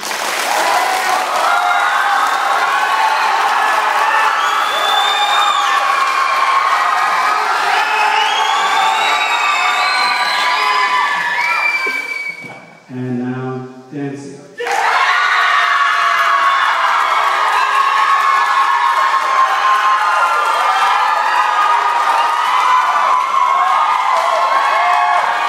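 A large group of children cheers, shouts and claps loudly to vote for swimming, a sustained roar of whoops and clapping that briefly drops away in the middle before surging back.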